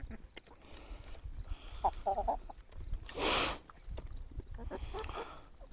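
Backyard flock of Ameraucana and Copper Marans hens, with Plymouth Rocks nearby, clucking softly and intermittently at close range over steady low outdoor rumble, with one brief louder rustle partway through.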